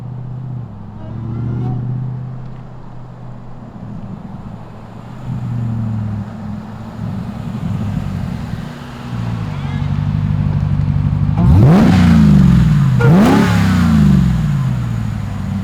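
A Jeep Gladiator with a swapped-in Demon Hemi V8 rumbles and revs while driving, building from a low idle-like drone to two sharp, loud rev bursts near the end, with people talking over it.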